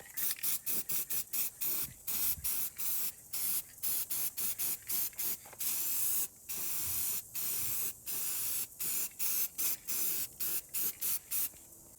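Lawn mower parts are spray painted in a long series of short bursts from a can. Each burst is a sharp, close hiss, separated by brief pauses in a fairly regular rhythm, with no talking.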